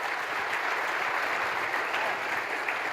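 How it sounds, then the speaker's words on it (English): A conference audience applauds a panel, a dense, steady round of clapping from many hands throughout. "One more round of applause for our panel"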